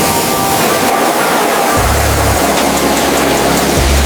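Water spraying over the dusty wheels of a 1990s Porsche Boxster, a dense, loud, steady hiss of rushing water up close, with a low rumble rising partway through.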